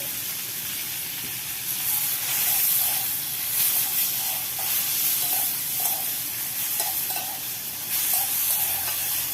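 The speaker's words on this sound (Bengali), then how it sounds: "একদম হালকা ভাবে ভেজে নিতে হবে, খুব হালকা।" Shrimp and mushroom paste seasoned with salt and turmeric frying lightly in a pan gives a loud, continuous sizzle and hiss with soft stirring scrapes throughout.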